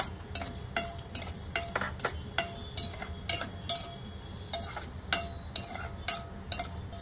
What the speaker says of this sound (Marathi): त्यात काजू मनुका मी आता फ्राय करून घेते।